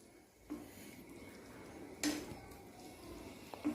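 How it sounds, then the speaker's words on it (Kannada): Masala being stirred into cooked bilimbi in a pan, with soft scraping and three distinct clinks of a spoon against the pan, near and fairly quiet. "ಮಸಾಲೆ ಹಾಕಿ ಮಿಕ್ಸ್ ಮಾಡು"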